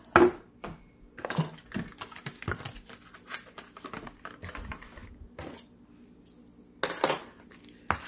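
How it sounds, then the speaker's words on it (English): Spoon knocking and scraping through cookie batter made with gluten-free flour in a bowl, irregular close clacks and taps with short pauses, no talking. "I'll stir it up. Okay, stirring it up."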